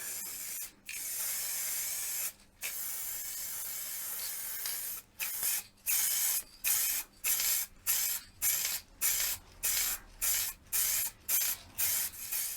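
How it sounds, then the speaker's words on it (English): Bursts of acrylic gloss lacquer spraying from an aerosol can with a sputtering cap onto a woodturned piece, a long steady hiss followed by a rapid run of short regular sprays, close and loud. "So, acrylic gloss lacquer."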